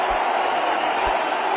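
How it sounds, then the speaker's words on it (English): Cheering stadium crowd at a cricket match applauding Tendulkar's batting, a steady broad roar of many voices that stays even and sustained throughout, with no single voice standing out. "crowd here already having a feast."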